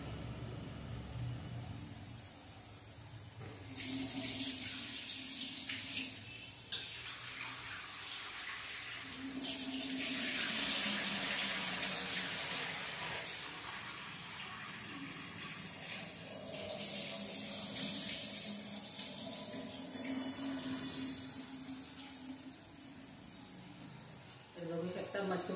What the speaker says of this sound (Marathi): तोपर्यंत मी डाळ धुवून घेते